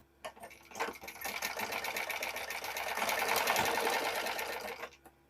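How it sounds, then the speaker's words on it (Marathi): Domestic sewing machine stitching a fabric strip for a blouse, a steady fast mechanical whir running continuously for about four seconds before stopping, close and fairly loud. "आपल्याला आता इथून शिलाई देऊन घ्यायची आहे."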